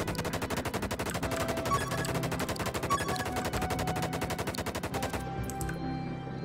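Rapid automatic gunfire from an Uzi-style weapon in a zombie shooter game, a dense string of shots running almost without pause for about five seconds before stopping abruptly and leaving quieter game sounds.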